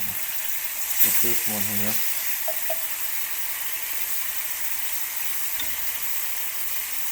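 Thin veal cutlets sear in a hot frying pan with a steady, close sizzle running throughout, while a person speaks briefly near the start.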